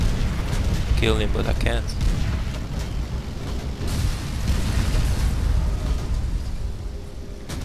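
Booming tank cannon fire and explosions in Call of Duty: World at War rumble through a dense low-end battle bed, with players talking over the continuous combat noise.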